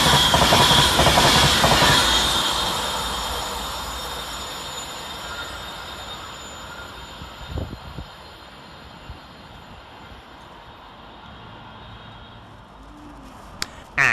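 An electric passenger train passes close by through Cheadle Hulme railway station with a loud rushing roar that slowly fades as it moves away, with faint rail clicks and a squeal near the end.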